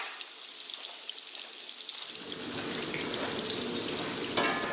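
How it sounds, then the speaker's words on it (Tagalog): Squid balls and kikiam fry in oil for pancit canton, a dense, close, steady sizzle that grows louder and fuller after two seconds and continues with no talking. "okay talaga na piniprito muna yung squid ball and yung kikiam pagdating sa pansit bago natin isahog"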